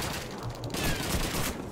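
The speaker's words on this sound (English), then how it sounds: "they're shooting me from up there" Rapid gunfire in Call of Duty 2, a dense burst of shots rolling continuously with an echoing battlefield background, no voices.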